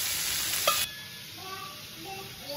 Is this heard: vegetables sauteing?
yes